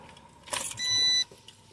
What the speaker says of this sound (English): I turned my car back on.